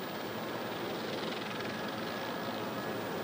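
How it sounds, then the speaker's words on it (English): Aircraft on a runway after an emergency landing, with the landing gear tires burning, heard as a steady, loud, broadband roar of engine and rushing noise filling the whole moment with no break. "That's the tires burning out there."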